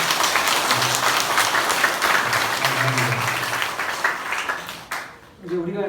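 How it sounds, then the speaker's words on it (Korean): A church congregation claps vigorously to welcome newcomers, a dense, sustained burst of many hands for about five seconds that then fades out as a voice begins to speak. "새로 오신 분을 위해서 다시 한번 힘차게 박수 한번"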